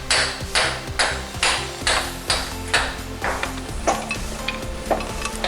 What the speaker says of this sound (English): And now just hit CV axle a little.